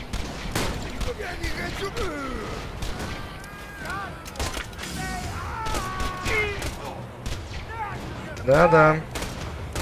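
Gunfire and explosions in the shooter game Borderlands 2, with sharp bursts of shots and booms scattered under ongoing voices and a louder blast near the end.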